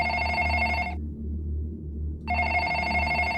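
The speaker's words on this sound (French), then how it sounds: "le téléphone sonna à nouveau" A telephone bell rings in two loud, bright bursts about a second long, separated by a pause of a little over a second, over a steady low hum.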